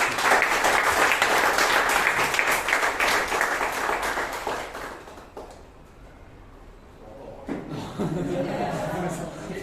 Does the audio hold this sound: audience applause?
yes